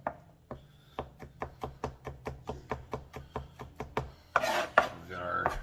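Knife chopping garlic on a cutting board, about fifteen crisp, evenly spaced taps close by, followed by a louder scraping shuffle as the pieces are gathered.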